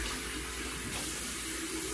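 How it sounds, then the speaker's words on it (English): Warm water runs steadily from a bathroom tap into a sink for a face rinse, a constant close hiss and splash with no talking. "Now I'm gonna find some warm water and get it right, rinse it."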